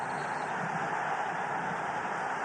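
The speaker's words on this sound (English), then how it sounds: "the noise you can hear is from the Bangladesh fans" Bangladesh fans cheering at a football match, heard as a steady, distant wash of crowd noise from the stadium throughout, with no distinct voices standing out.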